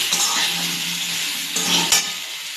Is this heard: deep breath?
no